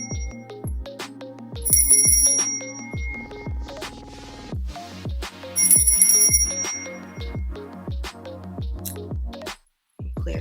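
A handheld bell rung during an energy-clearing ritual, sounding as a few bright, sustained chimes that ring out and slowly decay, close and fairly loud with no talking.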